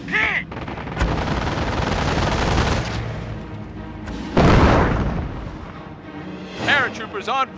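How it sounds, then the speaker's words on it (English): Machine gun bursts and heavy booms fill a Company of Heroes battle on Android: loud rattling volleys, then a big blast midway, with shouted soldier voices and squeaky radio chatter between. "Taking MG fire!"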